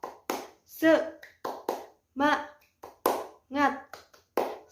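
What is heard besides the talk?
rhythmic hand clapping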